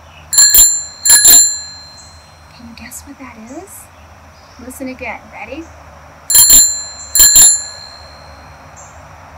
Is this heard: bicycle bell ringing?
yes